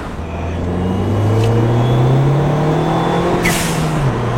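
A Ford Fiesta ST hot hatch engine revs steadily upward, its rising drone loud and close, climbing in pitch for several seconds with no voices over it.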